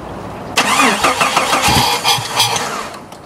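Jeep with a stroked 4-liter engine cranking, then catching and running roughly, the uneven engine noise close and loud for a few seconds before dying away, no talking.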